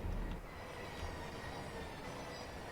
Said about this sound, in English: Let's watch the train coming past.